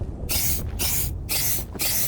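A burning mushroom creature in a Minecraft modpack gives off repeated harsh hissing bursts, four spray-like blasts in quick succession with brief gaps, loud and close, with no speech.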